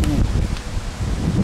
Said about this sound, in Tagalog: Yan, lumalakas na naman ng hangin.